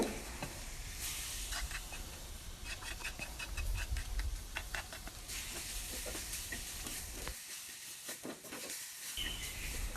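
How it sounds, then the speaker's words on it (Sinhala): Lentils stirred into onions, green chillies and curry leaves frying in a pan, with a steady sizzle under repeated scraping and stirring strokes, close and continuous throughout. "ඔන්න දැන් මම පරිප්පු ටික එකතු කරා. එකතු කරලා හොඳට මේක කලවම් කරනවා."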